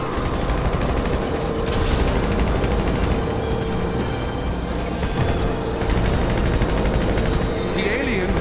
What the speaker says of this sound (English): Let's shoot some extraterrestrials!